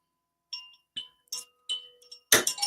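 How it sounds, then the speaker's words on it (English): Meditation chimes struck five or six times in slow succession, each a clear ringing tone with a brief fade, quiet and alone, ending in a louder, denser burst of sound. "I use these chimes to bring us in, which just sounds so nice and so"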